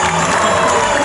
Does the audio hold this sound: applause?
yes